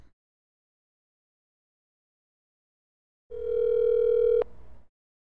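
A single ringback tone on an outgoing phone call sounds after a long silence, a steady electronic buzz lasting about a second before a short fade.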